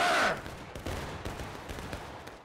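A massed musket volley from a line of Confederate infantry in the Civil War shooter War of Rights opens loud and close. A brief rolling crackle follows, then scattered distant shots echo over the battlefield.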